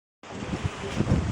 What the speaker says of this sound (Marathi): बघा आमच्याकडे पाऊस पडते पाऊस